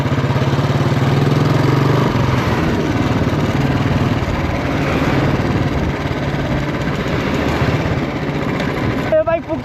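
A Classic motorcycle engine runs at a steady idle with a low throbbing hum, close by and partly buried under people talking nearby.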